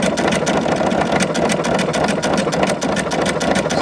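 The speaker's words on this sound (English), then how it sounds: "So it's sewing, and you can see it's going to get bigger." A Brother Innovis NV1800Q sewing machine runs a meandering decorative stitch, its motor giving a steady, close whirring hum with a fast, even needle rhythm throughout, no voices.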